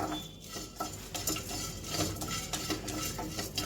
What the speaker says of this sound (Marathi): कढई गरम असल्यामुळे थोडा वेळ आपल्याला हे हलवत राहायला पाहिजे